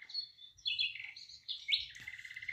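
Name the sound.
birds chirping at a bird feeder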